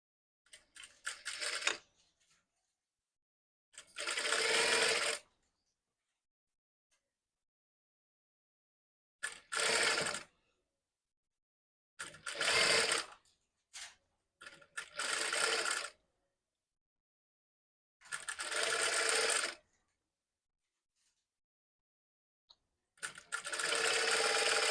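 Sewing machine stitching blouse fabric in separate bursts of steady running, each a few seconds long, with silent pauses between them.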